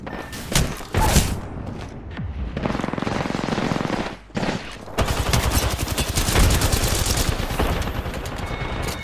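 Gunfire in Apex Legends: loud, dense bursts of automatic weapon fire rattle almost without pause, with a few heavier thuds and short gaps between volleys.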